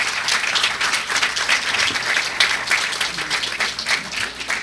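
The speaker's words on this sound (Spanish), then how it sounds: "les quisiera por favor pedirles unas fuertes palmas a todos los ponentes" A university conference audience in Peru gives loud, sustained applause for the speakers, dense overlapping clapping from start to finish with no talk.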